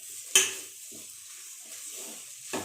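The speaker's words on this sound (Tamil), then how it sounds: "இப்போ மேங்கோ நல்லா ஃப்ரை ஆகிடுச்சு" Raw mango pieces fry in a pan with rice, a soft sizzle under a few quiet stirring scrapes, with one sharp utensil knock near the start and another at the end.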